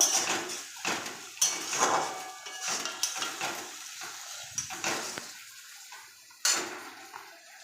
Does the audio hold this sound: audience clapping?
no